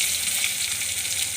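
Egg dropped into hot oil in a pan, sizzling loudly and steadily throughout with a dense hiss and no voices.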